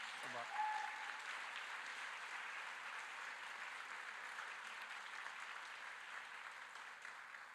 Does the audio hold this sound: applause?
yes